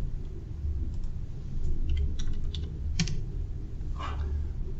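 Computer mouse clicks while working in Onshape CAD software, crisp close clicks coming in quick pairs and short bursts over a faint steady room hum, with no one talking.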